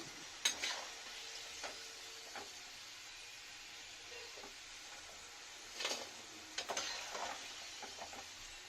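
Garlic sizzling in hot oil: a steady frying hiss with a few scraping stirs and clinks, close up, no voices.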